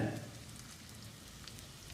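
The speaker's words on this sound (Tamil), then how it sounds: "வெங்காயத்தை கண்ணாடி பதத்துக்கு வதக்கிடலாம்." Soft, continuous sizzling of onions sautéing in oil in a pan, quiet and steady, with a brief low clatter at the start.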